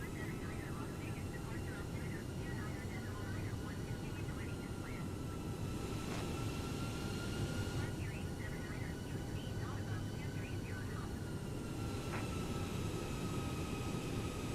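An Airbus A320neo climbs out after takeoff in Microsoft Flight Simulator, a steady engine roar and rushing air filling the cockpit while faint radio chatter and beeps come and go.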